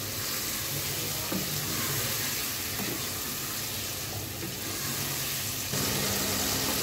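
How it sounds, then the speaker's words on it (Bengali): Spice paste and meat for tehari frying in a pot, a steady, fairly quiet sizzle that continues evenly throughout with faint stirring underneath. "এরপরে মশলাটাকে হচ্ছে মাংসের সাথে ভালো মতন কষিয়ে নেব"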